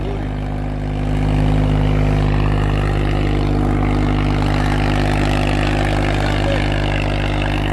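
Swaraj 744 tractor engine running steadily with a low, constant drone and strong harmonic hum, a slight swell in loudness after the first second, and no talk.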